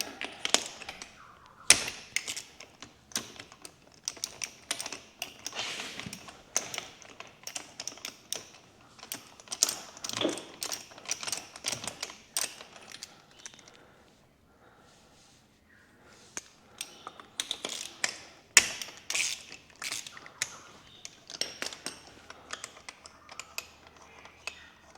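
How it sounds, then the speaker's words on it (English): Spark plugs being removed from a Polaris Sportsman 850 engine with a 14mm socket, giving close, irregular metallic clicks and ratcheting taps in scattered bursts with a short quiet gap midway. "So the first thing we're going to do is just remove both the spark plugs."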